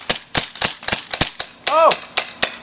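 Airsoft M9 and 1911 pistols fire a rapid series of sharp, snappy pops in quick irregular succession, with a short spoken exclamation among the shots.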